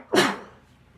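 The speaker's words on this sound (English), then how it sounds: "They're making me sneeze." One person sneezes a single sharp, loud burst close to the microphone, and the sound quickly fades into quiet.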